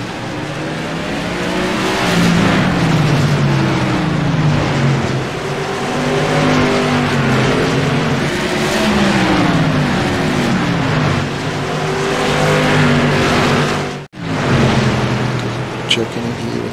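Modified race cars run side by side at Lanier National Speedway, loud engine roar sweeping past with rising and falling pitch as they get on the power, a commentator talking over it, then a brief dropout.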